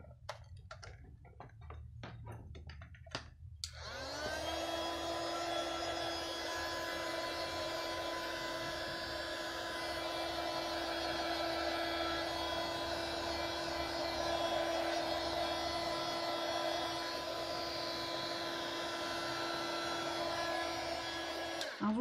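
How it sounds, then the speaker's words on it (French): Heat gun blowing hot air to dry watercolour and ink in an art journal, switching on after a few seconds of small taps and handling noises, then a loud, steady whining roar held close up to the end. "le heat gun ça permet de pousser l'aquarelle et l'encre"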